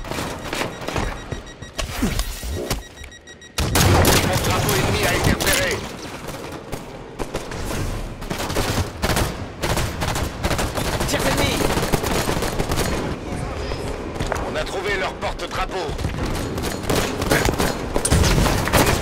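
Halo 5 Capture the Flag match with dense, continuous gunfire, including plasma grenadier fire, rattling in fast bursts with booms and thuds throughout, loud and busy, with game voice announcements mixed in.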